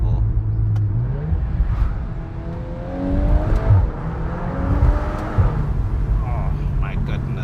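A 2024 VW Golf 8 R accelerates hard, its engine note climbing through rising sweeps with shifts between them, heard from inside the cabin while someone talks over it.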